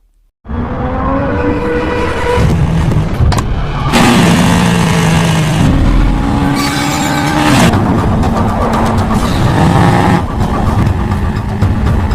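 A loud motorcycle engine roars continuously, revving up and down in pitch as the bike speeds along, with no voices.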